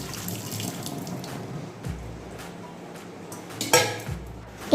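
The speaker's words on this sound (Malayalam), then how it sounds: "ഇത് തിളച്ചതിന് ശേഷം വെള്ളം ഊറ്റി കളയാം" Boiled nutmeg pieces being drained, water pouring and splashing close by with a few clinks of a metal pot and utensils, louder toward the end.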